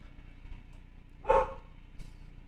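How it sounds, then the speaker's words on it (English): A dog gives a single sharp bark in the background, followed by a fainter short yip moments later, with a quiet room hum between them. "Apologize for my dog barking in the background."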